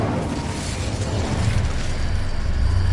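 Incendio fire spell in the video game Hogwarts Legacy, heard as a steady, loud roaring burst with dense low rumble and crackling noise lasting throughout, no voices.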